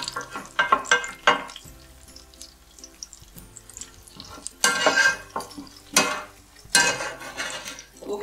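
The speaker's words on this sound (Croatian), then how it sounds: "Evo jedna šuplja žlica, tako da ga odsjedimo od masnoće. Znači izvaditi i lukić van iz tavice." Slotted spoon scraping and tapping in a frying pan while lifting onion fried in fat from roasted meat, with intermittent clinks and bursts of sizzling crackle, close and moderately loud, no talk.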